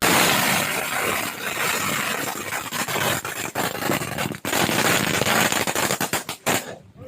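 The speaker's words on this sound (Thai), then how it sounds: "จะจุดประทัดแล้วนะครับ" A string of firecrackers goes off outdoors at a Thai offering ceremony for a monk's hut, a loud, dense rapid crackle that keeps up for several seconds before breaking into sparser final pops.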